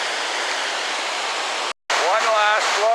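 Rushing water at Hogs Back Falls in Ottawa, a loud, steady broadband roar of churning, bubbling falls that cuts out briefly near the middle before resuming, with a voice speaking over it toward the end.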